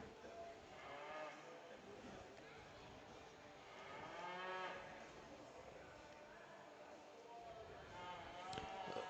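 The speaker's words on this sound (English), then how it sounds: "Looks like they pulled in the Blesson heifer there." Heifers at a junior breeding heifer show at the Nebraska State Fair moo in low, drawn-out calls a few times, fairly faint and distant, with people talking nearby.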